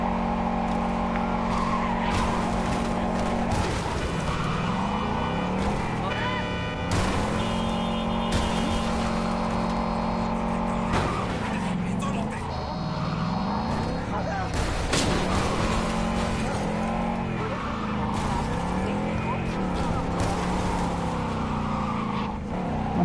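A car drives and skids in the video game Cyberpunk 2077. The engine roars loudly and steadily, and tires squeal in repeated swooping skids, with dense, continuous game noise throughout.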